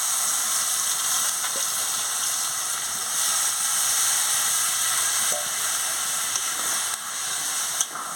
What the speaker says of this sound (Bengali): দিয়ে পরিমাণ মতন জলটা দিয়ে দিচ্ছি।